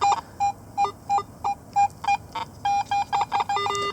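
Metal detector set to iron audio emits a string of short electronic beeps and tones at irregular intervals, some clipped and some held longer, clear and close with no talking.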